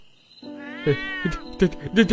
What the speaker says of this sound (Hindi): काली बिल्ली? अरे बाप रे, ये बिल्ली मुझे इतना घूर घूर के क्यों देख रही है?